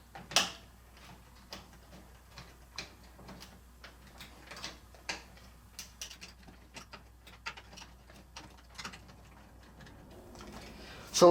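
Screws are tightened down on the plastics of a Medieval Madness pinball machine, making a string of small clicks, ticks and taps spread irregularly across the span, close and fairly quiet.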